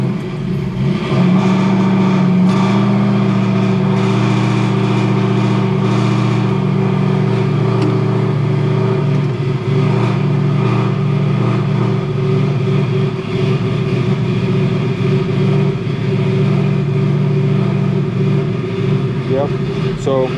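A Ford 7.3L Godzilla V8 swapped into a Crown Victoria runs at a steady, loud idle with a deep, continuous drone throughout, with a few small rises in pitch and no clear pauses.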